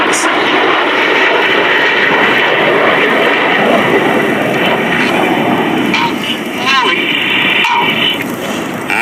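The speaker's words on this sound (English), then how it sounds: "Here comes the rear section, Red 6 and 7, about to roll inverted and fly formation down the line." Red Arrows jet aircraft fly past in display formation at the 2019 New York International Air Show, a loud, steady jet roar that fills the whole stretch with only slight swells.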